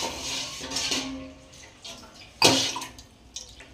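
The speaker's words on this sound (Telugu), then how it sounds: "కొన్ని అయితే నీళ్ళు యాడ్ చేసుకుంటా ఉన్నాను" Water splashes and trickles into a metal pan of milk, with light clinks of cookware and one sharper clatter midway.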